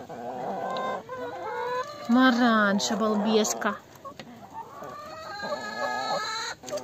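A broody hen sitting on eggs clucks and grumbles in a coop, with a louder burst of agitated clucking midway, while someone talks to her close by.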